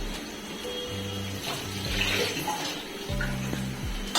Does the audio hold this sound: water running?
yes